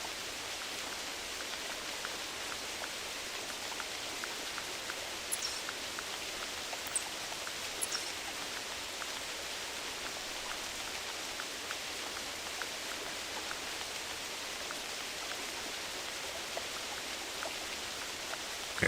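Steady rain falling in the hunting video game theHunter Classic, a dense even hiss throughout with a few faint crackly glitch-like ticks, no one speaking.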